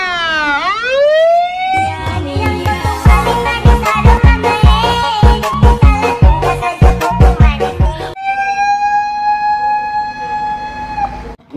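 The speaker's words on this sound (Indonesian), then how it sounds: "ada truk pemadam kebakaran" A fire truck siren wails with a rising and falling sweep, close and loud, giving way to a stretch of rhythmic music before a steady siren tone returns.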